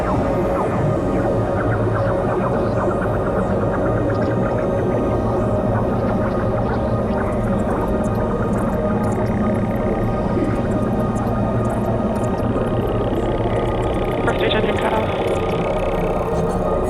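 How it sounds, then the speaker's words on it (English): A SpaceX NROL-87 rocket lifting off from Space Launch Complex 4 East at Vandenberg Space Force Base, a dense, continuous low rumbling roar with a steady hum that fills the whole stretch, with a voice talking over it. "gorgeous liftoff from Vandenberg Space Force Base, Space Launch Complex 4 East"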